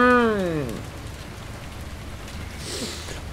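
Steady hiss of rain falling in the Bus-Simulator 2012 video game, an even wash under a falling descending tone at the start and a brief voice fragment near the end.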